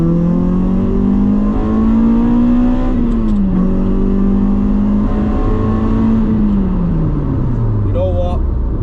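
A 2004 Toyota Celica T-Sport's VVTL-i engine revs out hard in second gear, its loud rising howl climbing steadily before dipping between shifts, dominating the cabin throughout.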